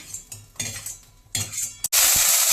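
Chana dal with green and red chillies being sautéed in a pan: a spoon scrapes and clinks in short bursts, then a sudden loud sizzle takes over at the end.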